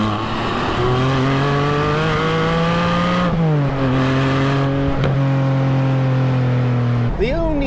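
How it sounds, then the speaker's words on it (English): A Porsche 718 Spyder fitted with a new aftermarket exhaust revs up, holds a steady, droning high-rpm note, then drops and rises again in a sharp blip, loud and close. "exhaust fitted to the Porsche 718 Spyder"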